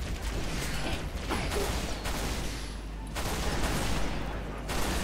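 Gunfire in Halo Reach comes as rapid, dense bursts of shots under a busy game soundscape, fairly loud and continuous with brief pauses.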